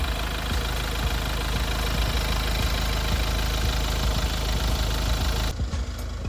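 The 2.0 diesel engine of a 2020 Hyundai Santa Fe TM idles with a steady, dense, clattering rumble heard loud and close from the engine bay, holding unchanged until it is briefly muffled near the end.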